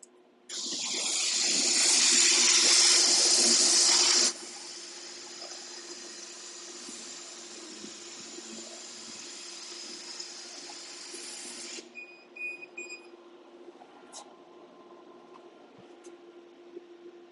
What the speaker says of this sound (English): So we're going to reset the laser. It's going to re-home back to the spotted end of that so I can do the outside cut.